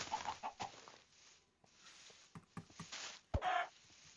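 Minecraft chickens clucking in short, scattered bursts with soft pattering between them, fairly quiet, with one louder squawk near the end.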